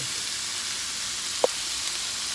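Food frying in a pan on a home stove, a steady, soft broadband sizzle throughout with one brief clink partway through, no voices.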